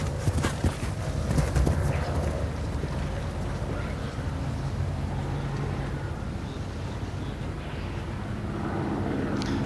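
Horse hooves clip-clopping around an outdoor show jumping course, the steady beat carried under a busy, constant arena and crowd background.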